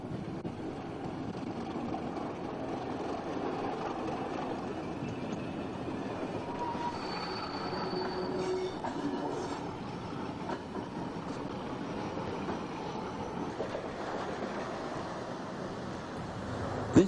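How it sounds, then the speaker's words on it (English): A Class 31 diesel locomotive rumbles steadily past at moderate distance hauling three cargo wagons at Birkenhead Docks, a few faint metallic squeals rising over the engine drone. "A Class 31 arrives with three cargo wagons."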